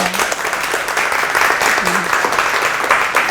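Audience applause in a Korean TV studio as a posture-correction trainer guest is brought out, a dense, steady clatter of many hands, loud and close, with a brief voice over it.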